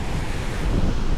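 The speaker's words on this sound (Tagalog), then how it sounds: "Grabe ang alon ano." Big ocean waves surging and breaking after days of heavy rain, a steady loud rumble of surf mixed with wind buffeting the microphone, with no voices.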